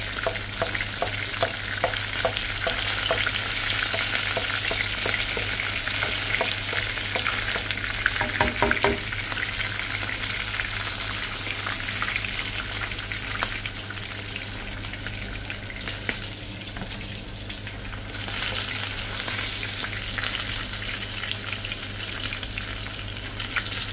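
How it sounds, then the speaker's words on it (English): Salmon fries in a pan with a steady, loud sizzle and crackle that runs throughout, with scattered pops and occasional stirring or clinking, and no talking. "My fish have to fry properly now"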